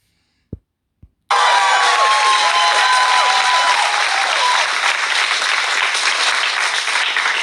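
After two sharp taps, a large audience bursts into loud, continuous clapping and cheering that holds steady and close for the rest of the stretch.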